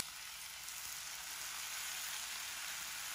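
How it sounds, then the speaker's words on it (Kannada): Onion and tomato frying in a pan with curry leaves for a tomato gojju, a steady, close sizzle throughout with no talk. "ಈರುಳ್ಳಿ ಸ್ವಲ್ಪ ಫ್ರೈ ಆದಮೇಲೆ ಟೊಮೊಟೊ ಹಾಕ್ತಾ ಇದ್ದೀನಿ"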